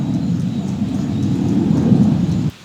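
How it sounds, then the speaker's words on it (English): Steady rain pours with a dense, rumbling wash of sound, loud and continuous, cutting off abruptly near the end. "It's raining again."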